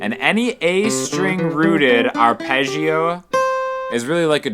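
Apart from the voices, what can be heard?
No distinct noise like a dog, phone or traffic.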